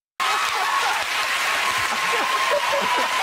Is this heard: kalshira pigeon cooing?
no